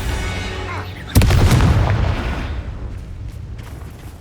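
A sudden loud explosive blast in Hogwarts Legacy, a single heavy boom that erupts mid-clip and rumbles away, decaying over a few seconds.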